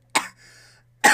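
A single short cough bursts out, followed by a soft, breathy exhale or gasp, then a second sharp cough right at the end; both are close and fairly loud in an otherwise quiet room.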